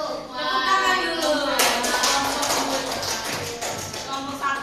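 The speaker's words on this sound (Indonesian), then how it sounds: "Tepuk tangan dulu." Students in a university peer-teaching class clap their hands after a group presentation, a scattered then fuller round of claps at moderate distance, with faint voices and children's chatter mixed in.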